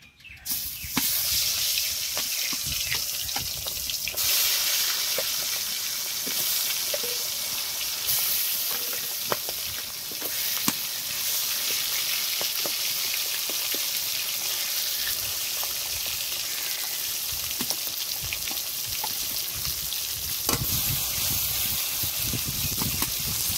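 Rita fish sizzles steadily in hot oil in a kadai over a stove, a loud, continuous hiss with occasional pops and no talking.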